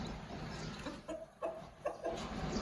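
Aseel hen clucking softly in short bursts while her chicks hatch, a few quiet, close clucks over a low background with no talk.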